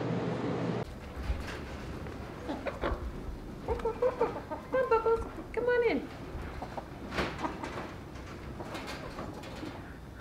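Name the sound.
chickens clucking in school chicken coop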